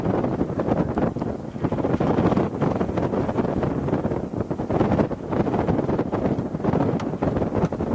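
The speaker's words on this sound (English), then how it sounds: "The wind is picking up again." Strong wind buffets the microphone outdoors near a wetland with ducks, a continuous roaring rumble that swells and eases without pause.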